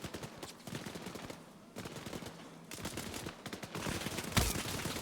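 Rapid gunfire crackles in bursts during an Arma 3 Antistasi firefight, several volleys of automatic shots with brief pauses between them, moderately distant and fairly quiet, ending in a sharper nearby crack.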